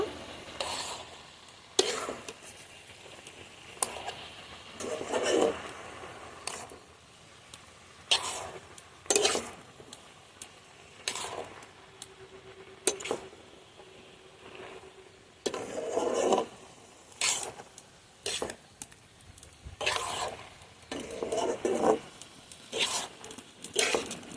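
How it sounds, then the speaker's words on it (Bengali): Chopped bottle gourd being stirred in a pan with salt and turmeric, with repeated scraping stir strokes at an irregular rhythm over a soft, quiet sizzle. "এখন লবণ হলুদটা মিশিয়ে নেব"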